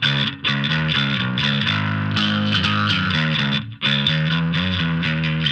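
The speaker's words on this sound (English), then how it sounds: "Dirty rock bass." Bass guitar through a cheap bass amp on a dirty rock preset, a loud, distorted riff of repeated notes with brief pauses, played alone.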